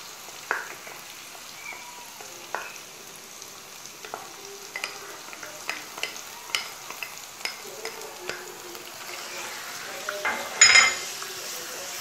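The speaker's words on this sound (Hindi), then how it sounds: "अब ये अच्छे से भून गई है, सौते हो गई है, तो इसके अंदर हम डालेंगे टोमेटो प्यूरी" Tomato puree sizzles in a pan over a sautéed paste, with a steady fry under regular light scrapes of a spoon stirring it, close and moderately loud, ending with a louder clatter, and no speech.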